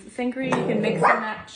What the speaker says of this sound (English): Oh, I'm sorry about my dogs, guys.